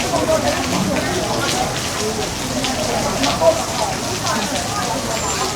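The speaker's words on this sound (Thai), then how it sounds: "ฝนตกเลย" Steady rain pours down in a dense, even hiss around a boat outing on Bangkok's Chao Phraya River, with faint voices now and then beneath the downpour.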